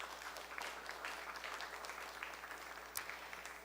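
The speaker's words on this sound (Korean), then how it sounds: "오늘 이야기 손님으로 오신 우리 윤정원 선생님께 박수 부탁드리겠습니다" A hall audience claps steadily for a guest speaker at a history museum lecture on pregnancy and childbirth, a dense, even patter of many hands held for several seconds with no voices over it.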